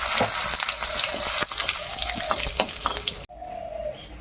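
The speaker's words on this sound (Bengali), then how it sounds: "একটু জিরে, দুটো শুকনো লঙ্কা আর এই তেজপাতাটা ফোড়ন দিলাম" Cumin seeds, two dried red chilies and a bay leaf hit hot oil for tempering, a loud crackling sizzle with popping spatters that cuts off abruptly, followed by a quieter residual fry.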